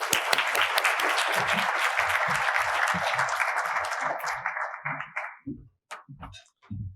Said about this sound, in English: You can start applauding again.